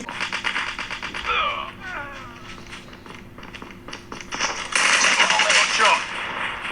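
Call of Duty gameplay with rapid bursts of automatic gunfire and clicking weapon handling sounds, moderately loud, alongside other game effects and a louder burst near the end.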